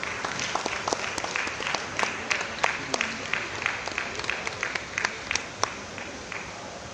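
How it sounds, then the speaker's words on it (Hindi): Audience clapping at a literary award ceremony, a moderate crowd giving a sustained round of applause with distinct sharp individual claps popping out over the steady patter throughout. "मैं पुनः तालियां चाहूँगा इस कृति के लिए भी।"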